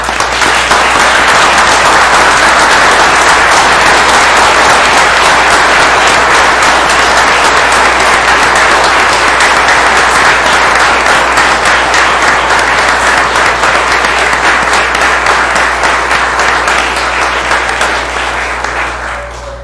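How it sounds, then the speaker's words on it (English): A room full of people at a township committee meeting gives a long, loud, steady round of applause, dense continuous clapping that holds for about twenty seconds and tapers only slightly at the end, with no talking over it. "Round of applause."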